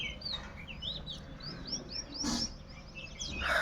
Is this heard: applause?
no